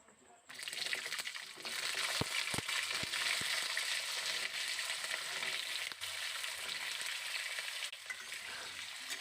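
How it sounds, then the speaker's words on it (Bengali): Cut potatoes drop into hot oil with fried poppy seeds, and a loud, steady sizzle bursts in and holds, marked by a few sharp clicks of the utensil against the pan early on. "আলুগুলোকে এবার ভালো করে আমি তেলের মধ্যে ভেজে নেব"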